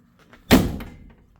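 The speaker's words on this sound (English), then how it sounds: "Also, obligatory door slam." A single solid car door slam on a 1966 Delta 88, close and loud with a short thudding decay, set against near silence.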